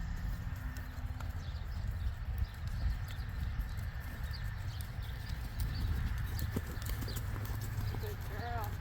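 A mare being asked into a canter during a lameness evaluation, her hooves clip-clopping in a steady rhythm close by, with a voice speaking over the footfalls.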